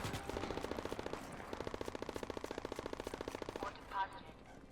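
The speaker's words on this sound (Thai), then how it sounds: "เหมือนเพื่อนเราเริ่มยิงกันแล้วนะครับข้างหน้า" Rapid automatic gunfire in the video game Starship Troopers: Extermination: sustained bursts of fast, evenly spaced rifle shots with a brief pause midway, moderately loud and close, ending in a louder blast with no speech.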